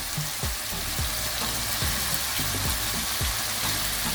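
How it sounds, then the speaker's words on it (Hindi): Chicken pieces frying in well-browned masala for gobi gosht, a steady close hiss of sizzling with repeated low clacks and scrapes of stirring throughout. "अब हम इसमें चिकन जो है वो डाल देंगे"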